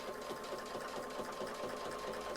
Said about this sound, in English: So now we're going to sew around this one.